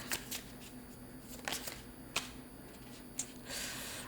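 An oracle card deck is shuffled up close, quiet riffles and sharp flicks of cards in short bursts, ending in a longer rustle, with no talking.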